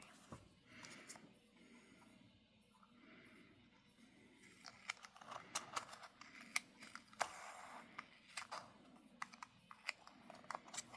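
Scissors snipping paper for a gingerbread-themed junk journal, a run of quiet, close, irregular crisp snips and clicks that grow busier in the second half, with no talking.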